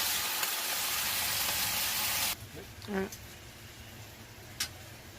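Loud broadband sizzling of steak frying in a pan while camping, for about two seconds, then it drops away to quieter hiss with a brief voice and clatter.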